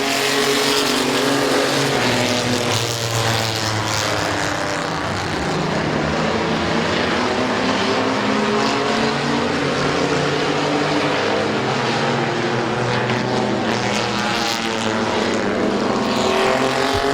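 Race cars charge off after the green flag at Midvale Speedway, a loud, continuous roar of many engines passing close and drowning out everything else.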